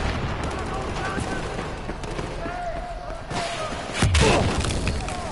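Gunfire in Battlefield 4 during a sniping match: scattered shots crackle in a busy, noisy game mix, with a louder, closer boom near the end.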